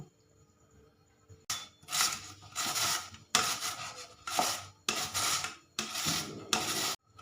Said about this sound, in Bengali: আমি চারটে আলু কেটে ধুয়ে নিয়েছি গ্রেট করে নেব